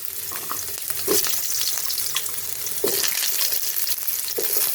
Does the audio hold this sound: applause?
no